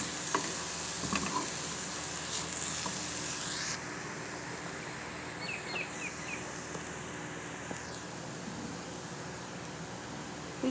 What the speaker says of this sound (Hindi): खसखस को धो के साफ़ करके, और हम इसको थोड़ा सा ब्राउन करें, बगैर ऑयल के भून रहे हैं